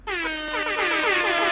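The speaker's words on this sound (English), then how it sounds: "putting the air horns in now." An air horn sound effect blares once during a live Twitch show, loud and sustained for over a second, a bright, brassy blast that holds steady with no talk over it.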